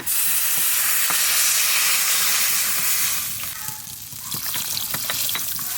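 Water poured into a hot pan of spices for a Bengali fish curry, giving a loud steady sizzling hiss that eases after a few seconds, with a few light utensil clinks and no talking.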